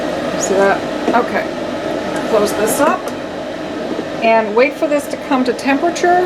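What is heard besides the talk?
room ventilation fan running in background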